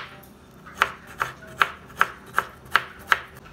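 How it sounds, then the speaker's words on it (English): Knife chopping a small piece of ginger finely on a board, seven crisp, evenly spaced chops about every half second, close and clear with no talk. "Cut a small piece of ginger and chop it finely."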